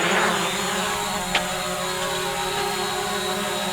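Hubsan Zino drone taking off, its propellers spinning as a steady, moderately loud whir with a brief sharp spike partway through.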